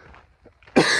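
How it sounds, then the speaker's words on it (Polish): A single light cough bursts out abruptly after a moment of near silence, close and fairly loud, from someone speaking Polish. "Lekki kaszel."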